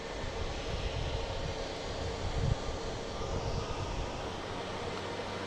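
A JetBlue Airbus A321 arriving from Seattle gives off a steady, fairly faint broadband engine roar that stays level and distant for the whole stretch, with no voices over it.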